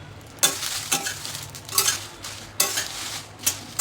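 Guntur chillies roasting in a little oil, stirred in bursts: several scraping, rustling sweeps at a steady rhythm over a faint continuous sizzle, close and fairly loud.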